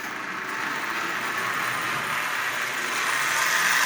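A Marx toy switcher locomotive fitted with a single reduction motor runs on track at half power, giving a steady, continuous whirring rattle of motor and wheels that holds even and close for the whole stretch, with no talking.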